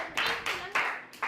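Short burst of claps from a small group of students in a classroom, four sharp rhythmic strikes close by, echoing slightly in the room.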